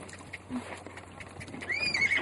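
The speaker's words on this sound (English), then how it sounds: "I'm gonna ride this here horse right here." A horse gives a faint, whinnying neigh toward the end, heard outdoors over a low steady background hum. Soft hoof and movement sounds are scattered through the clip.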